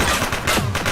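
A shooting suspect fires rapid, loud shots that run together into a dense burst lasting about a second.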